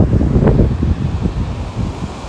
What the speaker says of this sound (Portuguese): Não tá chovendo, isso aqui é vento mesmo.